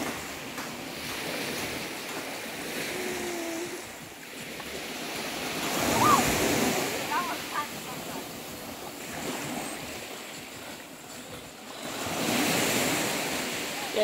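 Ocean surf breaks and washes onto a beach in steady surges, with wind buffeting the microphone and faint voices in the background.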